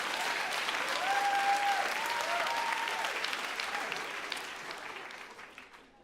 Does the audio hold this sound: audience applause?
yes